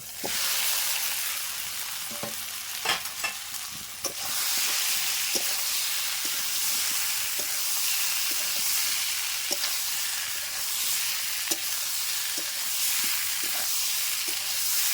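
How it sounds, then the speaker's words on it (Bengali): Boiled potatoes fry in hot oil for an egg curry in a village kitchen, giving a steady hiss and sizzle with occasional sharp pops and the scrape of stirring, at close range with no talk. "আলুটা সেদ্ধ করা ছিল এবার ভেজে নেব"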